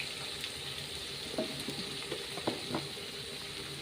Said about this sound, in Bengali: এঁচোড়গুলো ভালো করে ভেজে নেব